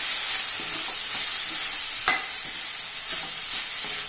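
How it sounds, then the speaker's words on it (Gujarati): Spiced poha stirred in a pan over a low flame: a steady, close, soft sizzle with repeated scraping strokes of the spoon, one sharper knock midway, and no talking. "ગેસ ધીમો કરીને ધીમે ધીમે એને હલાવીશું"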